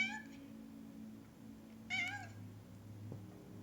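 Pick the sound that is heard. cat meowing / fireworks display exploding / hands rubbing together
cat meowing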